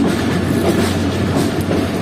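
Pakistan's Business Express passenger train on a winter run from Bahawalpur to Karachi rumbles steadily from close by, a dense, continuous roll of wheels and carriage noise with faint clickety-clack running through it.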